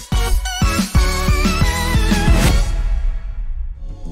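Beat-driven music with punchy percussive hits, then a heavy impact effect lands about midway and rings out into a long fading tail.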